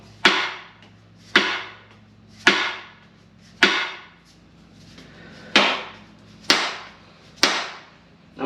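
A small-block Chevy engine bearing cap is tapped to seat it, giving seven sharp, separate knocks spaced about a second apart, loud and close, each ringing briefly.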